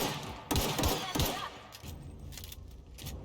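Gunshots in The Outer Worlds: a close cluster of three or four sharp, punchy shots, followed by fainter scattered firing and rumble.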